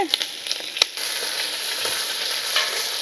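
Onion slices, ginger and green chilies fry in hot oil for upma, a steady close sizzle that swells after a few stirring scrapes at the start, with no voices.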